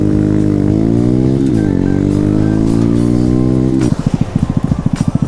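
A Honda Grom stunt bike engine hums and shifts pitch through a couple of gear changes up close, then breaks into a rapid loud pulsing exhaust note as it rides off.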